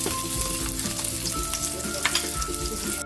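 Garlic and onion frying in oil in a pan as the base for pork kare-kare, a dense, continuous close sizzle with no talking.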